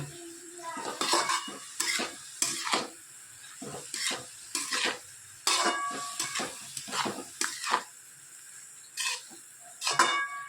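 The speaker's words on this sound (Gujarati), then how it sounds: "બધી ભાજી આપણે નાખી અંદર મિક્સ કરી લઈએ" A utensil stirs greens for a spinach and toor dal dish in a pan, making a run of sharp metallic scrapes and clinks at an uneven pace, close and fairly quiet, with no talk.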